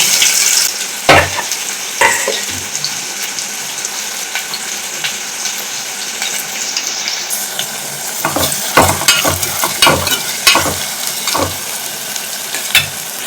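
Chopped onions fry in hot oil in a pot, giving a loud, steady sizzle close by. Clinks and scraping from stirring break through it now and then.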